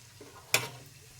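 A short, sharp hiss of whole cinnamon, cardamom and bay leaf hitting hot oil flares loudly, then fades quickly into a low, steady background.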